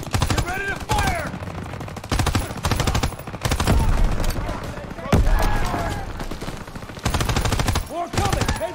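Gunfire in the World War II shooter Call of Duty WW2: loud bursts of rifle and machine-gun shots in rapid clusters separated by short pauses, with battle noise and shouted game voices mixed in.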